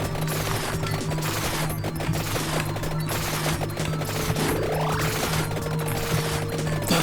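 Newly gained guns in the video game Vampire Survivors fire in a dense, continuous barrage of rapid shots over a droning game soundtrack, loud and unbroken from start to finish.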